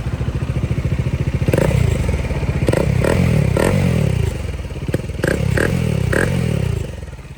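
Bajaj Dominar 400 motorcycle fitted with a Zeus exhaust, revving in several short throttle blips over a steady loud engine rumble, heard close up.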